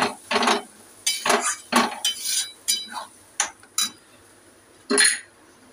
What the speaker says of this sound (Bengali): এবার এটাকে আমি একটু নেড়ে নেব।